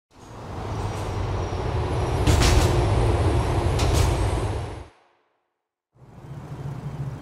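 A GTA 4 train rumbles past, a loud, heavy rolling roar that swells, cuts abruptly to silence, then resumes.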